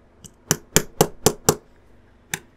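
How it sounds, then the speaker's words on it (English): Sharp, close taps from a small hammer flattening lugs on a Porsche 917K model kit: five in a quick, even rhythm, a short pause, then one more tap. "a little hammer had helped me out there in the end to get them flat"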